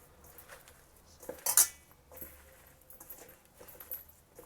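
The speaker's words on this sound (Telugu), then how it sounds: "ఇప్పుడు ఇవన్నీ బాగా కలిసేలాగా కలపాలి." Sliced spiny gourd is tossed with oil in a bowl, giving soft wet stirring and scraping with one sharp metallic clink of a utensil against the bowl's rim, close and fairly quiet, no talking.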